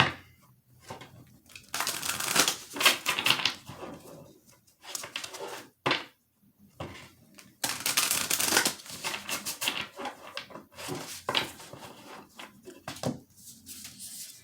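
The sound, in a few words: shuffling a deck of oracle cards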